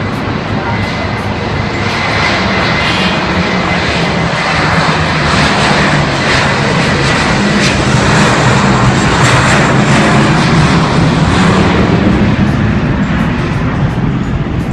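A Turkish Airlines Airbus A340 lands on runway 05 at Istanbul Atatürk Airport while another jet takes off, producing a loud, continuous roar of aircraft engines that swells and holds throughout.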